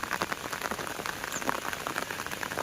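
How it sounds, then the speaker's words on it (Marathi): Light, fine rain falls over rice paddies, making a soft, steady patter of scattered drops with no voices. "मस्त बारीक बारीक पाऊस पडतोय"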